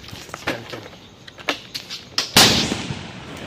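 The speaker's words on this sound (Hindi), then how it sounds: "भाई आपने देखा काफी तेज धमाका था इस रावण बम का" Diwali firecrackers being set off, with several sharp pops and cracks before one Ravan bomb bursts in a loud, close blast whose noisy roar trails off over the last second.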